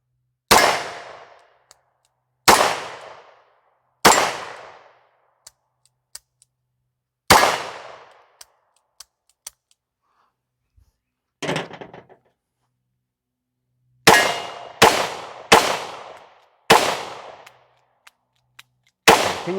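A snub-nosed revolver fired outdoors, sharp loud single shots with ringing decay, several spaced a second or two apart, then a quicker string of five shots near the end.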